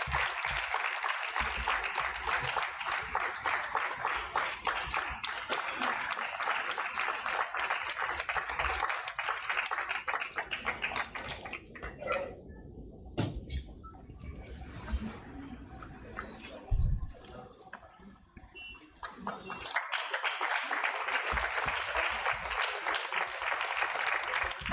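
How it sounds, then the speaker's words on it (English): Audience at an alumni summit ceremony applauding warmly, a long dense round of clapping that thins to scattered claps midway, then swells back to full applause. "A big round of applause."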